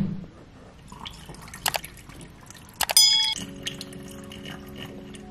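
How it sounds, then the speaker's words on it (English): Distilled water running into a bottle for an aloe vera hair mist, with a few sharp clinks and splashes, then a trickling pour whose pitch rises steadily as the bottle fills, heard up close. "I'm just filling the rest of the bottle with distilled water"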